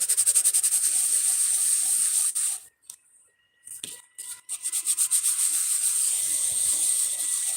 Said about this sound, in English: While I'm waiting, I'm gonna sand more of these.